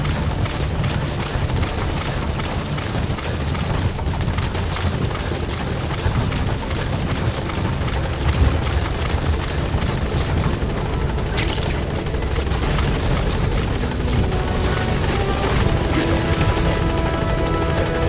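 Pequod, the support helicopter in Metal Gear Solid 5: The Phantom Pain, landing at a landing zone, its rotor beating in a loud, continuous, thick drone that holds steady throughout with no speech over it.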